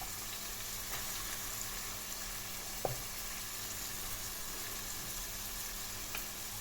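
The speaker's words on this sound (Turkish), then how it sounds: "Ay sarımsağı aynı anda atıyorum." Garlic frying in a pan while onion browns, a steady soft sizzle running throughout at close range with one brief clink near the middle; no talking.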